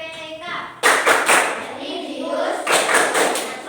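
Rhythmic group clapping by a school class doing the Tepuk PPK chant, sharp claps in bursts with voices chanting along between them.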